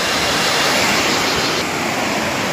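A rain-swollen stream rushes past nearby, producing a loud, dense, unbroken roar of flowing water with no voices.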